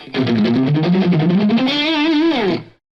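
A heavily distorted electric guitar plays a short bending phrase that ends on a held note with wide vibrato, loud and up close, then cuts off.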